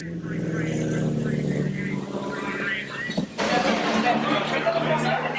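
Stock car engines roar loudly as a field of racers gets a brilliant start on an oval track, with a commentator talking over the sustained engine noise and a sharper surge of racing sound partway through.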